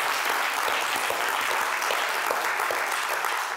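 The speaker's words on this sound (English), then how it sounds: "Give them a round of applause, guys." Lecture audience at a hypnosis talk applauds volunteers, a dense, steady wash of many hands clapping close and loud throughout, with no talk over it.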